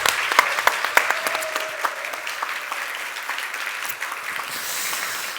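A church audience gives a warm round of applause to welcome the senior pastor, with many hands clapping in a full, steady burst that gradually softens over about five seconds.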